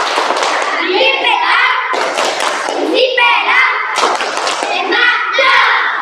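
Children in a classroom clap hands in rhythmic bursts on a teacher's cue, loud and close, mixed with their voices and shouts between the rounds of clapping.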